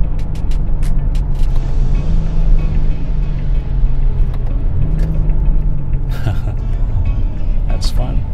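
A tuned BMW F30 accelerates with manual gear changes, its engine rumbling loudly and the pitch rising then dropping at each shift, while a person talks over the drive.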